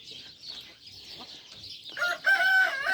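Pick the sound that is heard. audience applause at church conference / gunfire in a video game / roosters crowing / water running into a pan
roosters crowing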